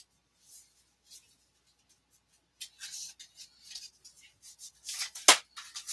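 Oracle cards are pulled from a deck and handled: soft sporadic rustles and slides of card stock close to the microphone, faint at first and then busier, with one sharper tap near the end.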